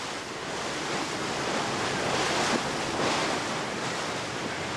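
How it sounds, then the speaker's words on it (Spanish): Rough sea surf pounding against steep rocky cliffs off La Gomera, a dense continuous roar of crashing waves with wind, steady and loud throughout with no voices. "la mar se agita y golpea fuerte contra los roquedales"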